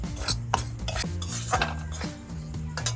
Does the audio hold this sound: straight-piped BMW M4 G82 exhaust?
no